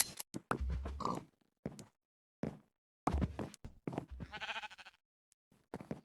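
Blocky Minecraft sheep bleat in short game-sound bursts as they are sheared with shears, several separate bleats with gaps between, fairly close, with no talk over them.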